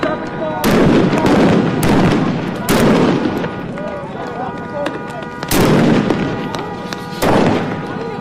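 Fireworks fired as weapons against police during a riot in Los Angeles, several loud sharp blasts about a second apart in two clusters, echoing over a steady crowd din with voices.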